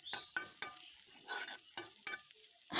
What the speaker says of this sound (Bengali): আলুটাকে হালকা করে ভেজে নেব